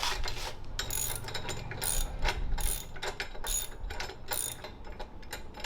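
A ratchet wrench loosening a bolt during a jetski repair, giving rapid mechanical clicking in repeated bursts, close and steady over a low background hum.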